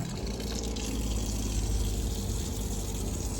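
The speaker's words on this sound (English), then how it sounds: "Pump relatively quiet for being mounted to the inner bed liner." A water pump mounted to the inner bed liner of a DIY overland camper on a Dodge Ram 2500 drains water, giving a steady, fairly quiet hum under a constant rushing flow of liquid.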